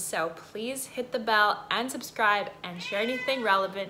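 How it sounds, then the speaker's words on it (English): A pet cat meows loudly and repeatedly, its rising and falling cries overlapping a woman's close speech in a room. "Sorry, that's my cat."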